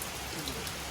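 Steady rain patters on a surface in a dense, even hiss, close and constant for a brief moment.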